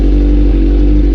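Motorcycle engine at a car meet, running loud and close with a steady, even drone and no clear rise or fall in pitch.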